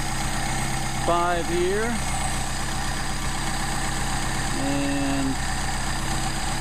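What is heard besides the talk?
Mercedes 190SL engine idling with carburetors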